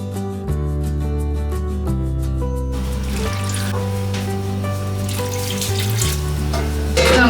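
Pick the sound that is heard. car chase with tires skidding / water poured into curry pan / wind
water poured into curry pan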